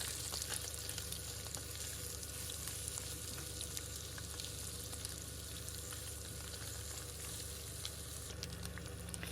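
Carrots fry in a pan with ground meat seasoned with salt and pepper for spaghetti sauce, giving a steady, dense sizzle that holds close and constant from start to end without pause.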